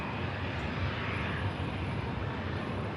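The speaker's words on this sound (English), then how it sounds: "Loganair just passing in front." A Loganair aircraft taxiing past at Manchester Airport, a steady close engine roar and rush that fills the whole moment without a break.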